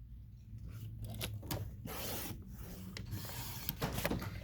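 A paper trimmer slices scrapbook paper in a few scraping, rasping strokes, close and crisp with short pauses between them, no talking.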